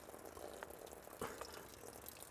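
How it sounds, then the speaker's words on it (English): Soaking water drains off a container of swollen marrowfat peas, a faint, steady trickling pour with a brief louder gush partway through. "so just drain the water off"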